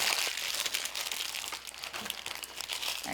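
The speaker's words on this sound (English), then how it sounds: "I'm gonna wrap that in parchment" Parchment paper crinkles and rustles steadily and close by while cookies are wrapped in it, a continuous dense crackling with no talk.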